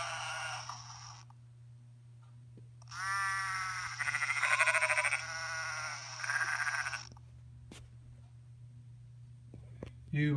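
A toy stock car's sheep bleat comes through in two bursts, thin and electronic, over a constant low mechanical hum, followed by small clicks and handling noises.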